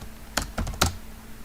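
A computer keyboard being typed on while writing code, three quick close keystroke clicks in a short burst and then quiet.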